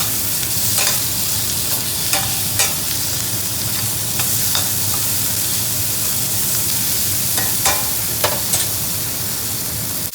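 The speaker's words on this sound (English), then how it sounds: "We'll give those a nice quick stir to start bringing everything together" Green onions and tomatoes fry in a pan under a loud, continuous sizzle, while a utensil stirs them in repeated sharp scraping strokes scattered across about ten seconds, with no talk.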